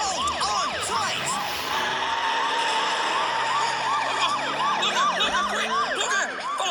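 Several cartoon police vehicle sirens wail at once with rapid rising and falling yelps layered over a steady higher tone, loud and continuous, with engine rumble underneath and no clear talk.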